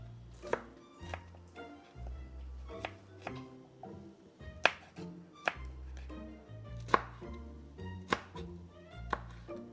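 A knife chopping vegetables such as red chili and cucumber on a cutting board for Thai ajad relish; close, crisp rhythmic thunks in quick runs with brief pauses, alone without speech.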